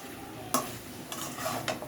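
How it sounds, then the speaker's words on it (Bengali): Spice paste for a chicken curry with jackfruit seeds fries in a pan with a soft steady sizzle, broken by a few quick spatula scrapes and stirring taps close by, with no talking. "মশলাটা ভাজা ভাজা হয়ে গেছে"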